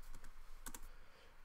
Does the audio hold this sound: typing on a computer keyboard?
yes